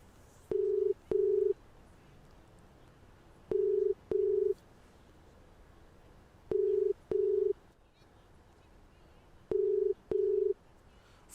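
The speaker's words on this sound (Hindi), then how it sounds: "फोन रिंग हो रही है।" Telephone ringback tone heard while a call is placed, four pairs of steady beeps repeating at regular intervals over a quiet background.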